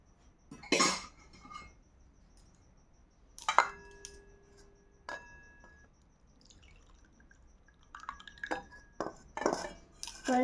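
Dishes and cutlery clink in a home kitchen as a dinner of thick mung dal with rice and roti is served, a few sharp separate clinks and clatters with quiet gaps between them, close by.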